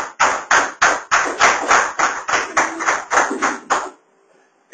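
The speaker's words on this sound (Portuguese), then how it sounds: "Palmas para o Senhor Jesus." A church congregation claps for Jesus in rhythmic unison, about fifteen sharp, evenly spaced claps that stop abruptly, leaving near silence at the end.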